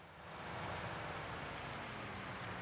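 Outdoor rain during a long UK wet spell comes down as a dense, steady rushing hiss, fairly close and continuous for a few seconds, with no voices.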